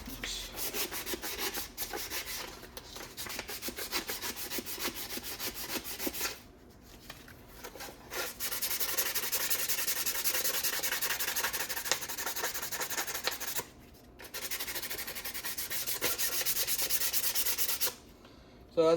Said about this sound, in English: We're just gonna go ahead and scuff the entire thing